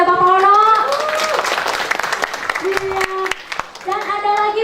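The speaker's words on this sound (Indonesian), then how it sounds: "Kita beri tepuk tangan lagi" Audience applause at a seminar, a dense wash of clapping from a crowd that swells and persists across the clip while a voice speaks through the middle.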